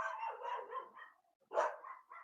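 Dog barking in a series of bursts, fairly close, with a short silent gap before a louder bark and further barks.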